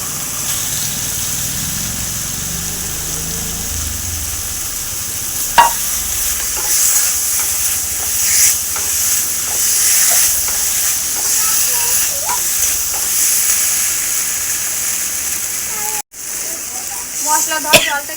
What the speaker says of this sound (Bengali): ম্যারিনেট করা মাংসটা দিয়ে দেবো।